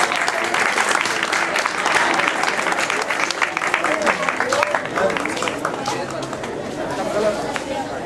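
An audience claps steadily at a prize-giving ceremony, a loud, dense wash of applause with chatter and voices mixed underneath throughout.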